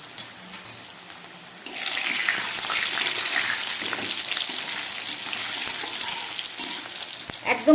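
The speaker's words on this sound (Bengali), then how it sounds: "একদম গ্যাস কমিয়ে অনেকক্ষণ ধরে আলুগুলোকে আমি এবারে ভেজে নেব" Potatoes frying in oil over a low gas flame, seasoned with salt and a little turmeric; a steady, moderate sizzle begins after a quieter opening and continues evenly to the end.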